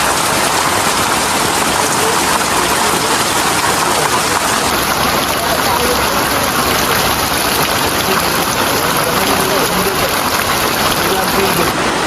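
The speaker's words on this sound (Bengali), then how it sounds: "প্রচুর বৃষ্টি আর বাতাসও আছে" Heavy rain with wind pours steadily over a village home during a power cut, a dense, loud, unbroken wash of drumming and hissing that continues for the whole stretch with no pause.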